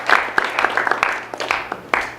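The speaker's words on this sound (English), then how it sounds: "give these guys a round of applause" A film festival Q&A audience bursts into applause, a dense spatter of clapping for a couple of seconds that thins toward the end.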